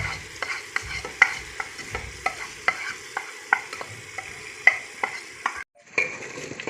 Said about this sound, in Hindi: तो इसे अच्छी तरह भूनेंगे तब तक जब तक ऑयल नज़र ना आए